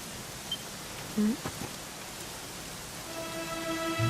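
Soft, steady rain in the video game Dragon Quest XI hisses in the background, with a few faint tones and small sounds scattered over it.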